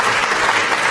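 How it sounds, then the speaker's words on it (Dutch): A brief burst of audience clapping at a Dutch debate event, even and dense throughout, with no clear voices on top. "Applaus voor onze eerste ronde gasten."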